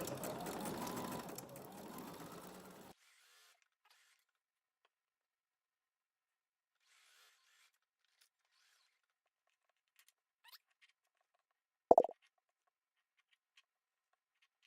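Sewing machine stitching quilt pieces with a quarter-inch seam, a steady mechanical whirr for about three seconds, then near silence broken by a single sharp knock.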